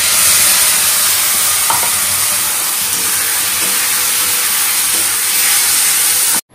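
Potatoes fry loudly in a pan as spices go in, a constant close sizzle and hiss with occasional stirring scrapes, ending abruptly.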